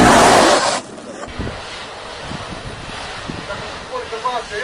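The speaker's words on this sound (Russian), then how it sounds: "Ветер, порывы ветра уносит у нас поликарбонат постоянно." Gusty wind buffets the microphone in a loud roaring gust at first, then settles into a steady outdoor rush with smaller gusts and faint knocks, around polycarbonate sheeting being installed.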